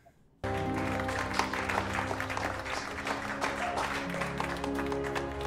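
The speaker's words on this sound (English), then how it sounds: "Everyone's just clapping at the master class of acting." Applause from a crowd in a Star Trek: Strange New Worlds episode playing on a screen, starting abruptly after a brief quiet and continuing as steady clapping over a low musical background.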